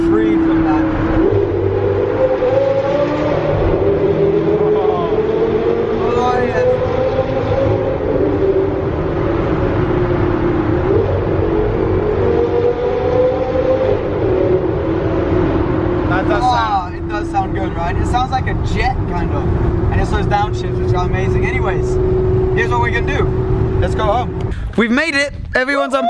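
Cars accelerate through a road tunnel near Monaco, their engines rising and falling in long revving sweeps with loud echo. Voices talk over them throughout, and sharper bursts come near the end.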